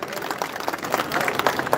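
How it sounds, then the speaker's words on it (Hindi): Audience clapping to welcome a speaker at a mahapanchayat, a brief burst of dense, uneven applause from a crowd, moderately loud. "एक बार तालियों से उनका अभिनंदन करें"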